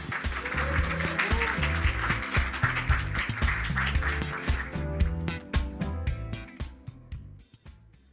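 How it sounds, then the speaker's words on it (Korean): An audience at a startup demo day applauds as the next presenter is welcomed, dense sustained clapping with background music underneath that thins out and fades toward the end. "큰 박수 부탁드립니다"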